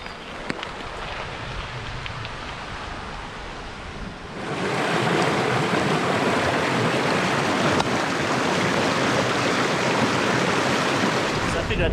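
Stream flowing beside a trail in central Pennsylvania, a steady broadband rush of water that swells louder partway through and holds constant, close and continuous with no talking.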